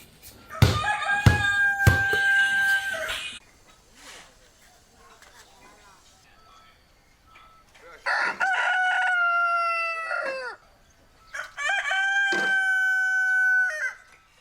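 Chickens cluck and a rooster crows at a farmhouse in rural Huaibei, Anhui, where dogs and pigs roam alongside them. Loud, close calls come in three bursts with quieter gaps between.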